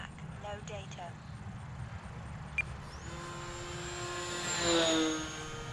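A low, slow pass by an Air Tractor model airplane: a faint propeller whine rises in pitch midway, swells to a peak, then holds steady over constant wind and background rumble.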